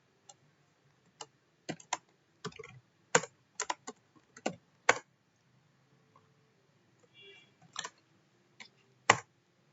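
Code is typed on a computer keyboard in short bursts of crisp, close clicks separated by pauses, alone in a quiet room.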